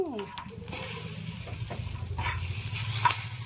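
Peanuts roasting in a pan for chutney, giving a steady dry rattling and sizzling as they are stirred, close up and continuous, with a scraping stroke near the end.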